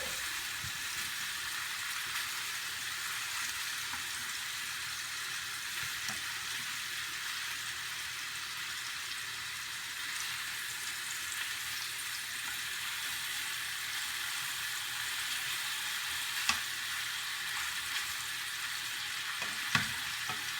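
Skinless sweet longanisa sausage fries in a pan, giving a steady, even hiss of sizzling fat that runs throughout, with a couple of faint clicks near the end.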